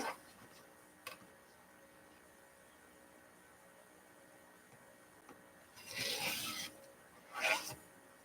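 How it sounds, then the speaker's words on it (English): Fabric pieces trimmed on a Martelli cutting board: two short, rough scraping strokes near the end of an otherwise quiet stretch, with a faint tap earlier on. "Now what I'm going to do is trim them up right here on my Martelli board."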